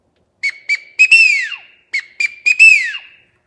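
A wood duck call blown on a 6-in-1 whistle: two bursts of short sharp peeps ending in a descending whistled squeal, loud and close.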